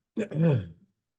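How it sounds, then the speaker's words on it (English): One person clears their throat once in a short gravelly rasp with a brief vocal rumble, close to the microphone, followed by silence. "I'm just clearing my throat"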